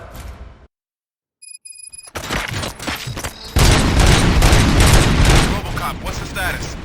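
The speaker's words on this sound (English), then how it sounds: "Gunshots? What's going on?" Gunfire in the video game RoboCop: Rogue City: bursts of rapid shots and booms rise after a brief silence, growing into sustained loud firing, with a sliding-door sound and game voices mixed in.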